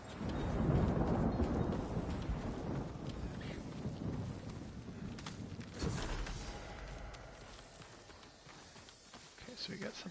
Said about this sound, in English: it sounds like it's going to storm on us